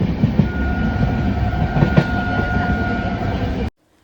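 On-board sound of a moving passenger train, a steady loud rumble with rhythmic clicks of wheels on rail joints and a faint hum, ending abruptly.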